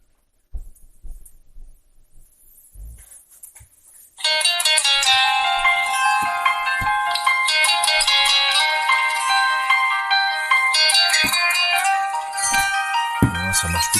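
A LEAGOO T1 Plus smartphone plays its ringtone: a quiet stretch of soft taps for about four seconds, then a bright, dense melodic tone rings out loud and steady until the end, with no talking.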